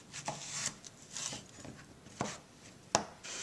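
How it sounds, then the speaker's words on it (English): Knife chopping through a squash on a cutting board: a few separate crisp thuds with sharp, bright cuts spaced about a second apart, fairly close and moderately loud, with no talking. "And then we're going to cut it in half."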